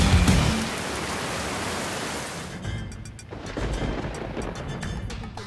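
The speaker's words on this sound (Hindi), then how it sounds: "मुझे बरसात बिल्कुल नापसंद है।" Rain falls in a steady broadband hiss that is dense at first, then thins slightly and continues at a lower, even level, with no voices present.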